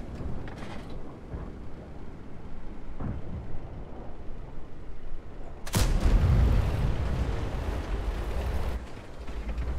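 Tank cannon fire in World of Tanks: a faint distant thump or two, then one loud, close booming shot about halfway through, followed by a rumbling mechanical tail.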